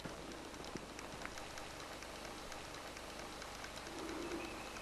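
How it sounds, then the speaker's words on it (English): Rain begins to fall in dry bushland near old fish ponds, a faint steady patter of drops beneath nearby birds cooing and calling, with no voices. "It's starting to rain."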